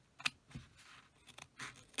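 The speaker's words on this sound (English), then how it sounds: "So just take your scissors. And you're just going to slowly trim." Scissors snipping through coin purse fabric and zipper tape, a few separate crisp cuts at close range, with no talking.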